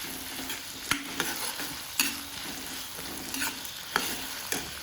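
Finely chopped onion fries in a pan while being stirred, a steady sizzle broken by sharp clicks of the spoon against the pan at irregular intervals.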